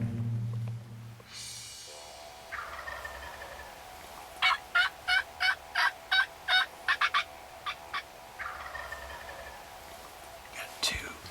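A wild turkey gobbles from its roost on a ridge, a run of about eight sharp, rattling gobbles at moderate distance with a few more calls around them, over quiet outdoor ambience and soft whispered talk.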